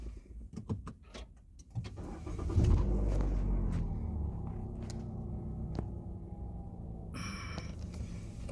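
A car engine cranks and catches after a few light knocks, settling into a low, steady idle rumble close by, with a brief higher tone near the end.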